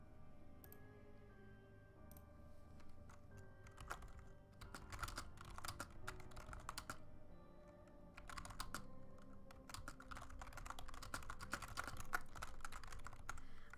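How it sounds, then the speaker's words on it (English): Typing on a computer keyboard, quiet clusters of rapid key clicks in irregular bursts with short pauses between them, close but soft, with no speech. "it's gonna be a lot of keyboard ASMR for the next, like, 5 minutes as I'm updating all this"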